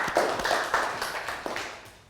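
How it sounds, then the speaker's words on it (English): A classroom of young students claps together in a quick round of applause during a Year 3 maths lesson, the rapid claps fading over about two seconds. "Round of applause,"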